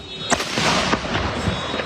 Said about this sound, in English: After the takedown, explosions erupted across Puerto Vallarta